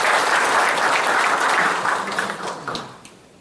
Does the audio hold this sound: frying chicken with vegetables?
no